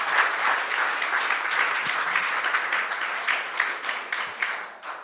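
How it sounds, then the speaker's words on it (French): Sustained audience applause at a French-language church gathering, a dense steady wash of many hands clapping at close range for the full length, with a few sharper claps standing out near the end. "On va juste prendre une main d'acclamation"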